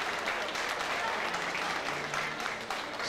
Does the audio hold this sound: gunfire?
no